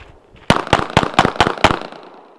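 Six loud, close gunshots are fired during a tactical moving-target shooting drill. They come in a quick, evenly spaced string about a quarter second apart, then a fading echo follows.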